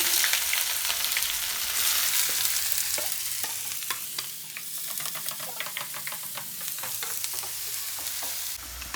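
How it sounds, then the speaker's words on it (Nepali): Onions sizzling and frying in hot ghee while being stirred, a dense close hiss with scattered crackles and scraping taps. "अब पहिला हामीले यसमा प्याज फ्राई गर्छौँ।"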